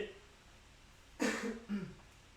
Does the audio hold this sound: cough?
yes